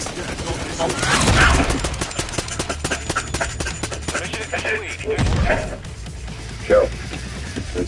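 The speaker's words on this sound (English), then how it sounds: "Taking effective fire." Battle gunfire rolls in a dense, sustained crackle of shots and thuds, loud and close. Voices are mixed through it and rise above the shooting in spots, with a few sharper bursts standing out.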